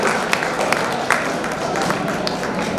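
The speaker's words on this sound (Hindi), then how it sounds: "जोरदार तालियां हेमेंद्र के लिए।" Steady crowd applause at a chess tournament prize ceremony, a dense wash of clapping from a hall audience running throughout, with a few sharper claps standing out.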